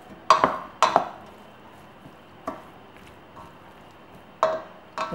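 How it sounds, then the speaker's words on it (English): Potatoes and onions for a vegan potato salad are stirred together in a bowl, giving a few sharp, separate scraping clinks close up, loudest at the start and end, with a quiet pause between. "So you can just give that a bit of a stir together."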